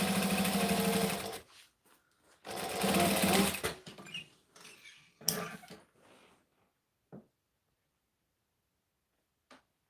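A sewing machine stitches a baby bag in two rapid mechanical bursts, followed by shorter runs and scattered clicks and knocks as the work pauses, close up and with no talking.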